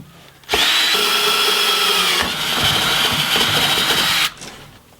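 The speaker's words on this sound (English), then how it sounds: "Then I'll take that small drill bit and drill that out." Small drill bit boring out a hole while installing JcrOffroad Deluxe rock sliders, a loud close power drill whining steadily in two bursts with a brief dip between.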